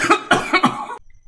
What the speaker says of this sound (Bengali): তুমি কাশি বন্ধ করবে বাবা? চলতেই থাকছে সকাল থেকে।